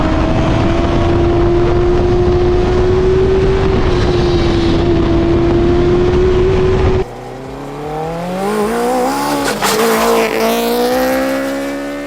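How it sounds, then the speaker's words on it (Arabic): A go-kart powered by a four-cylinder motorcycle engine runs loud and steady with a high sustained drone, then the pitch swings up and down as it revs and accelerates, with some tire noise, close up and without talk. "حقيقي الصوت جميل جدا، هو محرك موتوسيكل ال4 سلندر بيكون كده"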